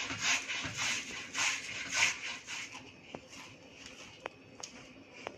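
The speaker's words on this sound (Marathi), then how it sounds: "आपण आता बटाटे किसूया किसणीने" Boiled potatoes rubbed against a hand grater in a home kitchen, a close run of rhythmic scraping strokes that fades into sparser light taps and clicks toward the end.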